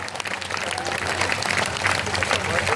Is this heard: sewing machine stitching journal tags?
no